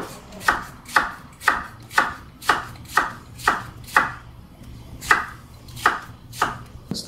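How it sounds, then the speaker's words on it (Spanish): A knife finely chops an onion on a cutting board for a prawn risotto, about a dozen crisp, evenly spaced thunks in a steady rhythm with a brief pause near the end, close and clear with no talk. "Vamos a picar finamente una cebolla."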